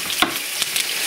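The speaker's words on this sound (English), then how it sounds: "Sizzle good like that." Chicken hits hot olive oil in a pan, giving a steady bright sizzle with a few sharp spits and splatter pops over about a second.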